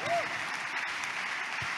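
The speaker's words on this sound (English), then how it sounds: "if you're clapping, you can clap better than that" An audience applauds in church, a dense, steady wash of many hands at moderate loudness, with a brief vocal sound near the start.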